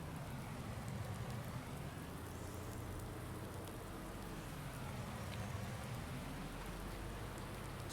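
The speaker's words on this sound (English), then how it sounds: "Oh wow! Look at this rain." Steady, dense rain hisses throughout a Farm Simulator game scene, a continuous even downpour with a low rumbling undertone and no talking.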